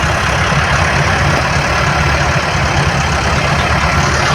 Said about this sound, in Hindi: एक ट्रैक्टर ये खड़ा हुआ है